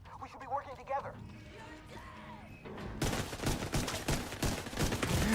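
A short quieter stretch of game noise in The Division 2 gives way to sustained rapid gunshots, loud and steady through the second half.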